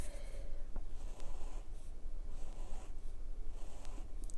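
Frixion fine liner pen drawing lines across paper: a soft, continuous scratchy scraping with short strokes and brief pauses, close and fairly faint, with no one talking.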